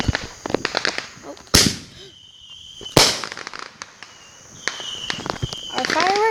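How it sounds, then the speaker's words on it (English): Fireworks at a 2019 Morrison, Oklahoma show: two loud, sharp booms a second or so apart, then crackling and whistling bursts, with people talking and footsteps nearby. "Our fireworks are scary though."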